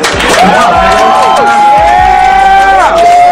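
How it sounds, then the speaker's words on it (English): A crowd at a hip-hop performance cheers and shouts loudly and continuously, with applause mixed in, while tonal shouts and voices rise over the dense, sustained noise. "Can I get a round of applause for my mother?"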